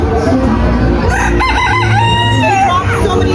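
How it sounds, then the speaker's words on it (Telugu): A rooster crows loudly with a long rising and falling call, amid steady clucking of Black Spanish chickens and farmyard noise at a street food and animal festival. "ఇది వచ్చేసి బ్లాక్ స్పానిష్ ఫేస్ చికెన్ అంటే ఇది చూడండి"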